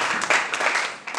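A church congregation claps for Jesus during a sermon, a dense burst of hand clapping that swells and dips across a second of sound.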